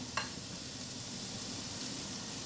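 Something frying in a pan over a low gas flame, a steady soft sizzle with a brief clink at the start and no voices.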